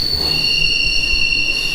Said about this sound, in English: Man, that train's loud.